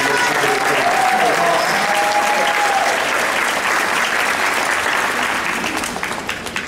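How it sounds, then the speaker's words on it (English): An audience at a school graduation gives the 5th graders another round of applause, a dense, steady wash of clapping that goes on for several seconds and thins slightly near the end. "5th graders another round of applause."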